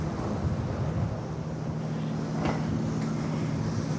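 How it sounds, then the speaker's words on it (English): Steady wind rushes across the deck of the Nordhavn 50 motor vessel Havaseas on the bay near the Bay Bridge, with a constant low engine drone underneath and no voices. "A little windy."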